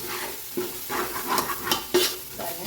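Coriander and mint leaves frying in oil for seeraga samba chicken biryani, stirred with a spatula: a close, continuous sizzle with repeated scraping strokes and a couple of sharper knocks against the pan.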